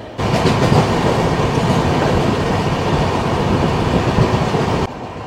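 Howrah Barbil Jan Shatabdi Express running at around 100–110 km/h, a loud, continuous roar of wheels and rattling carriages with steady clatter from inside the moving train, ending abruptly.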